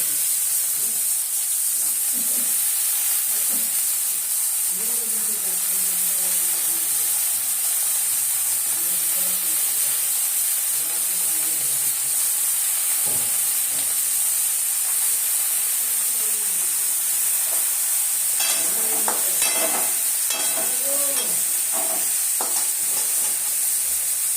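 Vegetables frying in a hot pan for niramish khichdi after yard-long beans, a continuous loud sizzle and hiss with stirring scrapes, while someone talks quietly underneath at times.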